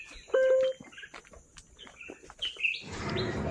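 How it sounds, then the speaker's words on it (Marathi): Birds chirping and tweeting in a dense forest along a small footpath, several short bright calls close by, some answered from farther off, before a soft rush of background noise takes over. "पक्ष्यांचा मधुर आवाज"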